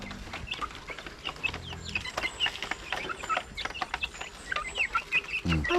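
Young chicks peeping busily after an 18-kilometre trip, kept in a small brooding box: many close, high, rapid chirps overlap in a steady chorus, with a few soft clucks and no talking.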